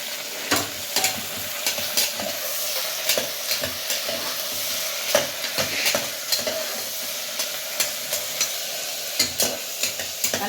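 Chopped tomatoes stirred and fried in a pan while making brinjal chutney: a steady sizzle with repeated scraping strokes of a spoon against the pan, close and continuous, with no talking.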